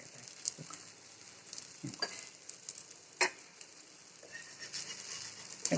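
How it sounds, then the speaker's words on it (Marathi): A dhirde, a multigrain flour pancake, crackles quietly in oil on a pan, a soft steady sizzle dotted with small pops and occasional spatula scrapes. "असं साईडने तेल सोडा आणि वरी पण थोडं लावा म्हणजे चांगलं भाजलं जाते"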